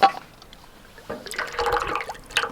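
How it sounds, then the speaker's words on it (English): Water trickles and splashes into a syrupy coffee and orange mixture in a few short uneven pours, close and fairly quiet, with small pauses between. "Maybe I need to add a little more water."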